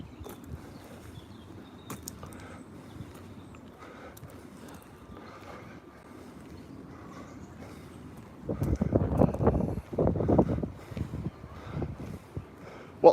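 Gusty wind on an outdoor walk near a tree line, a steady low rumble of air that swells into loud buffeting gusts against the microphone in the last few seconds.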